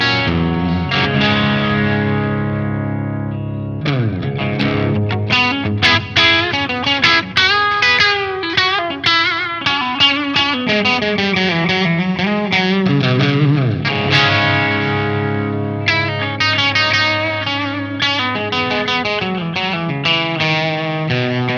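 An electric guitar played through an EVH 5150 III Stealth 50W amp on channel 1 with the gain pushed, giving loud, crunchy distorted chords and riffs with effects, running continuously with short pauses.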